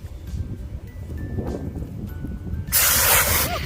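Tumbled rocks being rinsed, low rattling and handling sounds followed by a sudden loud rush of running water in the last second, no talking.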